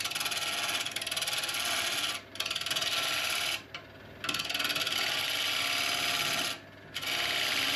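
A woodturning tool scrapes across the spinning face of a redgum burl bowl on the lathe, a loud continuous rasping hiss broken by three brief pauses as the cut lifts off.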